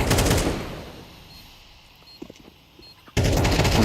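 Gunfire crackles loudly in a 3v3 competitive video game match, then drops to near silence with a few faint clicks and footsteps before a second loud burst of shots erupts.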